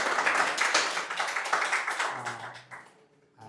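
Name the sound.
class clapping hands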